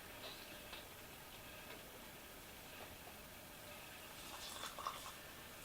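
Apple cider vinegar is poured into a jar packed with dried herbs, making a faint liquid trickle with small ticks and clinks of the glass that grow busier toward the end.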